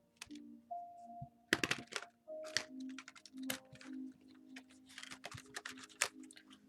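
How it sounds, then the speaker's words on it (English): Crisp, irregular riffling and snapping of stiff tarot cards being shuffled close by, in short uneven bursts with small taps and clicks in between. "These cards just don't want to shuffle today."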